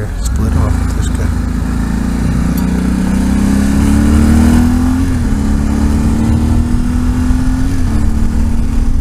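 A Ducati motorcycle engine drones loudly while riding, rising and falling in pitch as it revs up through gears, with someone talking over the steady roar.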